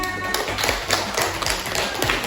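A classroom of students clapping hands together during a religious education lesson at an Islamic junior high school, a quick run of soft, rhythmic claps at moderate distance.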